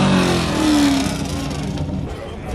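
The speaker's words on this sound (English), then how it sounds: "This is the fast speed exhaust right here." A modified car with a carbon fiber fast speed exhaust rumbles and revs nearby, giving a rough, throaty roar that briefly rises and then eases back, with crowd noise from a gathering of cars around it.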